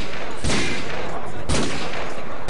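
Gunfire in Call of Duty Modern Warfare 2: loud, saturated rattling fire runs throughout, with two sharper blasts about a second apart standing out from the constant barrage.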